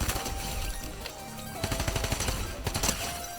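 Rapid automatic fire from a drum gun in a Fortnite-style 1v1 shooter, a dense burst of repeating shots that builds loud and close in the second half.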